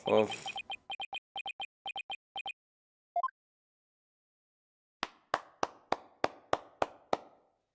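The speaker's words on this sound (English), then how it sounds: "Someone's clapping." Applause from a character in the Apollo Justice courtroom game, heard as a steady run of about eight sharp, evenly spaced claps, following a series of short chirpy text-blip sounds.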